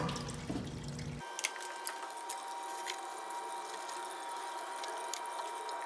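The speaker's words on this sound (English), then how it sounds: "take your pump and stick it into your aquarium." A water pump placed into a 10-gallon aquarium being converted to aquaponics: a sudden shift to steady trickling and dripping water with a faint constant hum, close and moderately quiet.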